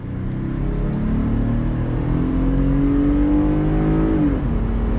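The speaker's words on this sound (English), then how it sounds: "Let me go ahead and get on the loud pedal." A 2020 Jeep Gladiator Overland pickup accelerating hard, its engine revving in a steady, rising drone that climbs in pitch across the clip, loud and close with no talk over it.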